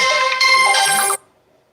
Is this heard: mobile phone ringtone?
yes